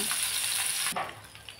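Magur catfish fry and crackle in hot oil, a loud continuous sizzle that drops off sharply partway through and then carries on softer with a few pops.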